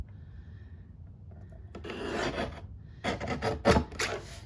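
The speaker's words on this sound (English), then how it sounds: "I'm going to take my guillotine trimmer this time and just trim that little edge off" A guillotine paper trimmer slices the edge off a craft card, heard as close, quiet scraping and rasping strokes, one longer pass followed by a few quicker rough swipes, with no talk.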